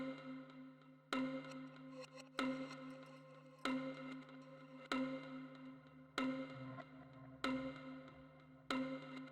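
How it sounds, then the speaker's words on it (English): A plucky synth one-shot preset named Rise, played in FL Studio for an Afrobeat track, repeats as bright, evenly spaced plucked notes roughly every 1.3 seconds over a soft sustained low tone, with no talking. "So I added this Pluck sound called Rise from my one shot kit."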